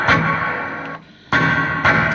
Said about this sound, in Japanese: ホールリバーブ。